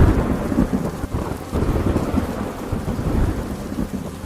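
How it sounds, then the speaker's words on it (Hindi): A thunderstorm pours heavy rain, a loud, dense, continuous downpour with deep rumbling throughout and no voices. "फिर जोर से बारिश होने लगी।"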